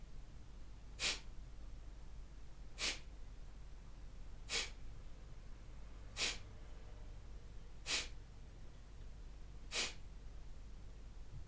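Kapalabhati yoga breathing: six forceful, sharp nasal exhalations spaced evenly about two seconds apart, close and clear over a quiet low background hum, with no talking.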